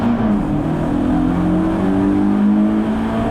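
Onboard at a race start in a BMW 318iS touring car at Dijon, the engine drones loud and close with a rising, steady rev note and no speech over it.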